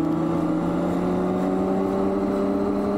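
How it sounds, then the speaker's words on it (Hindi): Motorcycles labor up a steep mountain road, their engines giving a loud, continuous, steady drone with strong harmonic tones throughout, heard close with no voices. "बाइक्स का जोर लगना शुरू हो गया है,"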